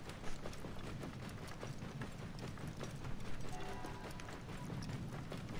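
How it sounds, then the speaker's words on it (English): Running hoofbeats from a camel mount in Assassin's Creed Origins, a steady rapid clip-clop rhythm of padded footfalls over a continuous dense game soundscape, close and moderately loud throughout. "Camel's not fast enough."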